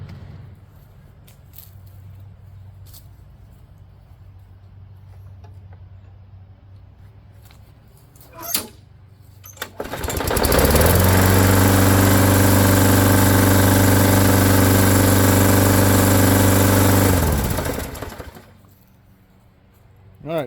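A Poulan Pro lawnmower with a Briggs and Stratton engine starts after some handling noise, then runs loud and steady for about seven seconds before cutting off.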